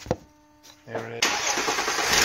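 An Audi S4 B8.5 engine cranks briefly, then catches and settles into a loud, steady idle with a rough, rattling hiss. No one speaks.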